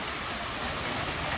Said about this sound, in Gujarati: પવન ને વરસાદ બંને ચાલુ છે, પણ બહુ પવન નથી, મીડિયમ પવન છે